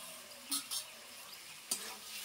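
Fried potatoes and pointed gourd go into a pan of cooked masala and oil, with a few short scrapes and clatters of a spatula over a faint, steady sizzle.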